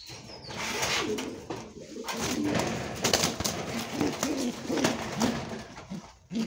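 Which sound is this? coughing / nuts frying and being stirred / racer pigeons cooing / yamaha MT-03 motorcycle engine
racer pigeons cooing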